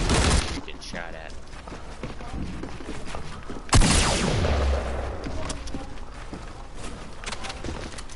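Gunfire in the Fortnite video game: scattered shots crack across the scene, one loud close blast standing out midway, with a voice talking over parts of it.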